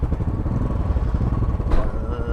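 A Royal Enfield motorcycle engine runs close by with a steady, throbbing rumble, and a brief sharp clatter breaks in near the end.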